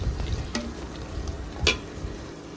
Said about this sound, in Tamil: தக்காளி போட்டு நல்லா வதக்கி எடுத்துக்கலாம்